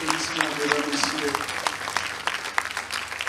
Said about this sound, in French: Merci de l'applaudissement, mesdames, messieurs.